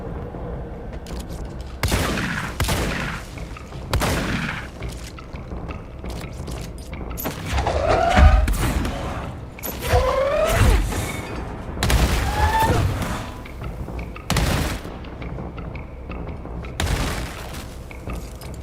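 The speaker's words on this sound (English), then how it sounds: "What the heck was shooting at me from over here?" Gunfire in the action video game Control rings out in repeated loud bursts and booms, with sharp impacts and mechanical clatter spread through the fight.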